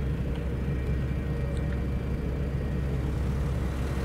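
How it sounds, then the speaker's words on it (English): A tractor engine in the game Farming Simulator 2013 gives a steady low rumbling drone, moderately loud and unchanging throughout, with no talking. "Jump into this tractor."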